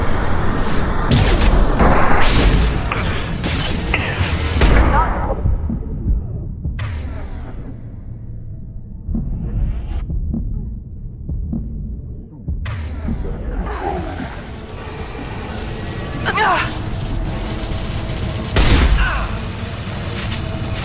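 Weapons fire in the video game Mass Effect 2: heavy booming shots and dense bursts, loud at the start, a quieter stretch with scattered blasts and whooshes, then rising fire again, with voices speaking at times underneath.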